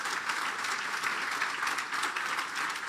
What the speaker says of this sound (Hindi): यीशु के कलाम के लिए जोरदार तालियां बजा दें